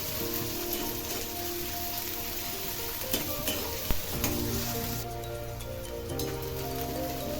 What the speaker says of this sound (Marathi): बारीक चिरलेला कांदा घालायचा कांदा छान असा पिंक होईपर्यंत तेलामध्ये परतायचा आहे